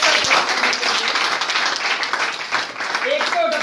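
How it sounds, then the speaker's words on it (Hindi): Audience applause at a business plan presentation: a brief wash of many hands clapping, fairly loud and steady, with a voice talking under it near the end. "जोरदार ताली"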